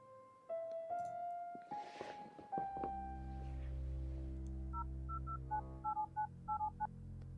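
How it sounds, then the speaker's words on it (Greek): A telephone is dialed in a video game: a run of short electronic keypad tones in quick succession, then a rhythmic pattern of paired beeps over a low steady hum, clear and close with no talk. "Ποιον παίρνει τηλέφωνο?"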